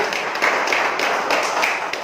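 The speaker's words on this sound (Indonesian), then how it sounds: "tepuk tangan sekali lagi untuk ibu" An audience at a Hindu youth discussion event claps in a dense, steady patter of many hands, fairly close and continuous with no talking over it.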